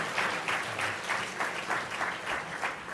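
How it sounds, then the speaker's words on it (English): An audience at the Africa Braintrust event gives a round of applause for an Assistant Secretary: brief, steady clapping from many hands that stays loud and even throughout. "Let's give her another round of applause"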